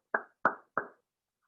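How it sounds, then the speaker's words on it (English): Three crisp hand claps in an even, moderate rhythm, close and fairly quiet, each ringing briefly before silence. "That's the sound of clapping."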